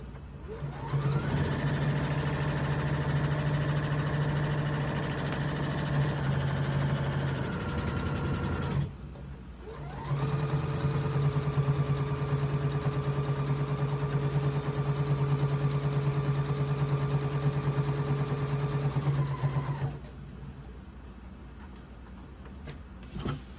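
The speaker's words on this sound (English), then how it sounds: "So we're going to stitch all the way around from one side to the next." A sewing machine stitches around fabric apron pieces in two long, steady whirring runs with a brief pause between, its motor hum and needle clatter loud and close, with no talk.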